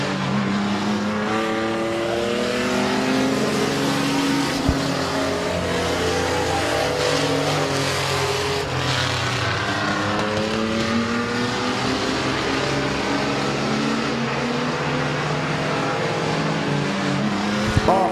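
Race cars roar around the Midvale Speedway oval, a continuous dense engine drone with overlapping pitch sweeps as several cars pass and circle, loud and steady throughout.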